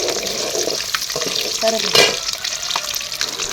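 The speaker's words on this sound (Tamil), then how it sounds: "எண்ணெய் நல்லா ஹீட் ஆனதும் கொஞ்சமாக வெந்தயம், நம்ம எடுத்து வச்சுருந்த பூண்டு சேர்த்து நல்லா வதக்கி விட்டுக்கலாம்." Oil sizzles steadily in a pan as fenugreek seeds and garlic fry, a constant crackling hiss with a few scraping stirs partway through.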